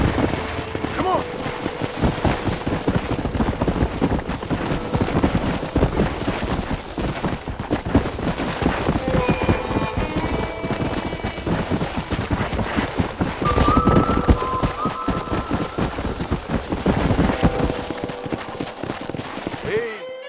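Horses' hooves clip-clop in the Western video game Red Dead Redemption, a busy rhythmic patter under game music and ambient effects, with voices speaking throughout.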